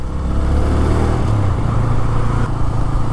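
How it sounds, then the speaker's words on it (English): A Bajaj Freedom 125 CNG motorcycle riding on a road, its engine loud and close, a steady mid-pitched drone with wind rush and no talking. "finally we have reached the roads, so we could hit few speeds in the bike"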